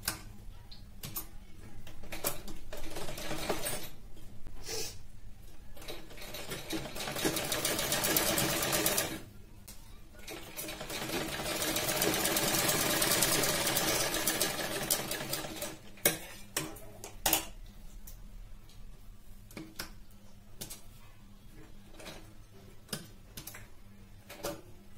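A sewing machine runs a long loose basting line on a blouse, with two sustained bursts of whirring and steady ticking between and after them, close and moderately loud, with no talking.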